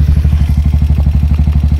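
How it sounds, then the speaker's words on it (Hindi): A sports motorcycle engine running close by, a steady rapid low thumping pulse with even rhythm, loud and alone with no talking. "तो अभी बस बाइक स्टार्ट करते हैं और निकलते हैं"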